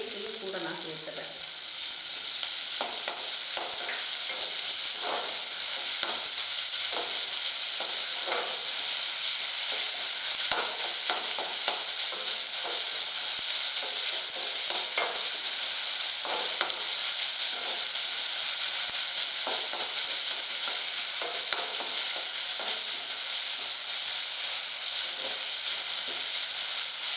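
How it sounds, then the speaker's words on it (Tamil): Sliced large onions sauté in a pan with ginger-garlic paste added, giving a loud, continuous sizzle broken by scattered stirring clinks. It runs steadily for the whole stretch without talk. "பெரிய வெங்காயம், வதங்கிட்டு இருக்கும்போதே இந்த இஞ்சி பூண்டு பேஸ்ட்டையும் கூட நான் சேர்த்துறேன்"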